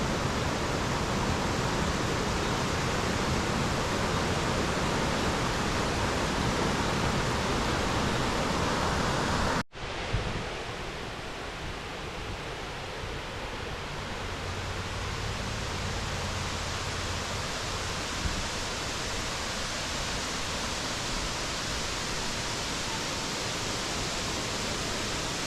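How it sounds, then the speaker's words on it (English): A waterfall along NC Scenic Byway 64 in the North Carolina mountains pours with a loud, constant broadband rush. The roar breaks off sharply partway through, then resumes as a slightly softer, steady flow. "this is just a wonderful, glorious scene. Look, it flows down to larger waterfalls"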